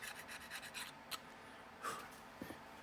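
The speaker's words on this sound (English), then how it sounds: "make sure that you use just a little bit of sandpaper. This is 320, some 320 3M." Sandpaper of 320-grit 3M rubbing a carburetor part from an Allis Chalmers D17 tractor, a run of quick close rasping strokes followed by a few scattered scrapes, fairly faint.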